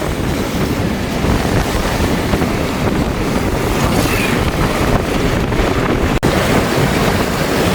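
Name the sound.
rough sea water surging onto flooded street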